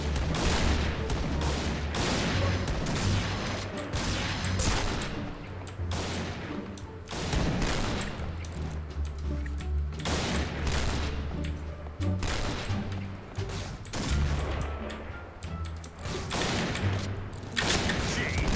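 Sniper rifle fire in a video game, with repeated sharp gunshot cracks over a steady low game background, loud and closely spaced throughout, alongside other weapon fire and booms and no talking.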